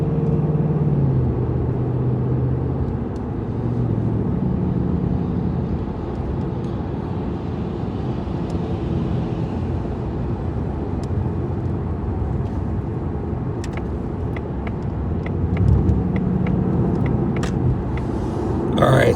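A car rolling slowly past garbage trucks on a street, with a steady low engine and road rumble throughout, a few faint clicks and knocks near the end, and occasional talk from inside the car.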